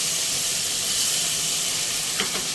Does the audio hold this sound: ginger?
yes